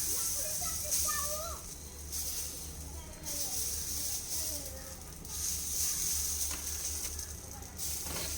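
Small dosas sizzle on a hot pan with a steady, close frying hiss that swells and fades, while faint voices are heard in the background.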